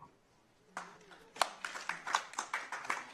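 Sparse audience clapping at a county commissioners meeting: after a quiet moment, a few people begin clapping, building into a short run of distinct, moderately close hand claps.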